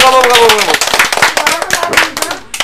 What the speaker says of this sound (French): on peut l'applaudir Grégoire, bravo